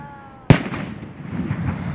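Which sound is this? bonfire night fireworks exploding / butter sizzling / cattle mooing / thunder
bonfire night fireworks exploding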